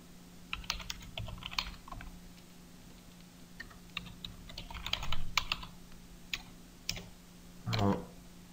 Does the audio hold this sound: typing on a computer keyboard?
yes